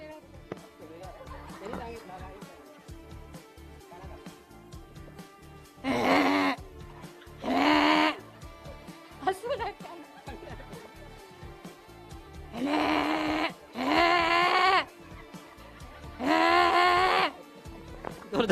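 A person imitates an angry buffalo's call with several loud, drawn-out bellowing groans in separate bursts, heard alongside background crowd chatter and music at a live event.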